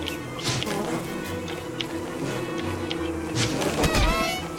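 Bees buzz steadily throughout in the game Don't Starve, a dense droning swarm with no talking.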